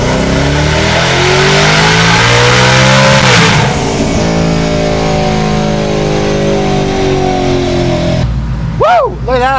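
A Hellion twin-turbo Ford Mustang S650 running 93-octane fuel roars through a long, loud 5th-gear pull, its pitch climbing steadily before it cuts off near the end, followed by brief whooshing turbo sounds.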